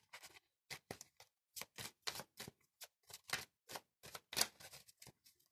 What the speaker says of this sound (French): Donc je vais brasser l'oracle, le manuscrit